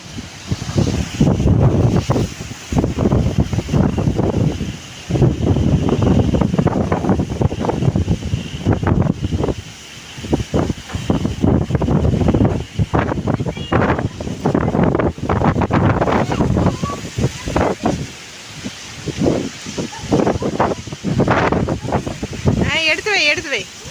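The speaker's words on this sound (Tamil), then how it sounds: "இப்போ செம காற்றடிக்குது." Strong cyclone wind roars and buffets the microphone almost continuously, gusting loud and close while people talk over it.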